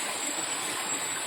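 A stream flowing over rocks along a river in Bicol, a steady broadband rushing and burbling of water, even and continuous throughout with no talk heard.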